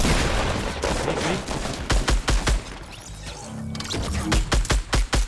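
Rapid bursts of gunfire in Fortnite, sharp repeated shots in uneven clusters with a brief lull in the middle, loud and close, no speech.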